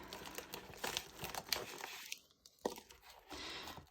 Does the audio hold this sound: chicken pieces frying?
no